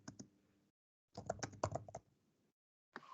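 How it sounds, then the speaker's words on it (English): Bursts of keyboard typing, a quick flurry of clicks, a longer busy stretch, then a pause before more keys start again. "I think he's typing instead."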